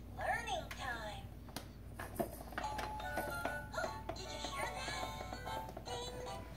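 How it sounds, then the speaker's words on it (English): A Fisher-Price Laugh & Learn Puppy's Activity Home toy plays its doorbell chime among toy melodies and clicks, with people talking over the sounds. "Did you hear that? Ding dong."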